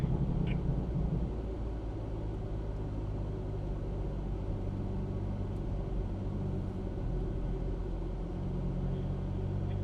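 BMW M4 driving on a closed track, its engine a steady loud low rumble throughout with dense road and tyre noise, no distinct revving, while making a sharp left turn into the inner loop.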